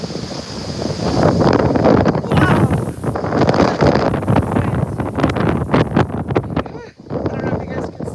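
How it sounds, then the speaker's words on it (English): Loud, gusty wind buffeting the microphone in heavy roaring bursts, with a brief lull near the end and a voice exclaiming briefly. "I don't know if you guys can see how windy that was just then."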